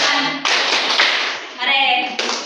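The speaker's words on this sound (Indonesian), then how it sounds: "Tepuk siku, tepuk pundak, tepuk tangan." Classroom clapping game in an Indonesian elementary social studies lesson, with children clapping elbows, shoulders and hands in rhythm while chanting in unison, the pats and claps blended under their voices in bursts.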